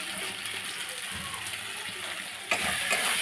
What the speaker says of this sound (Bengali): তো ভালোভাবে মশলাটাকে কষিয়ে নিচ্ছি